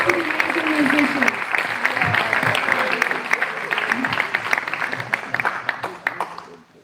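An audience gives a round of applause for the musicians at a gathering, a dense, continuous clapping with some voices mixed in, tapering off toward the end.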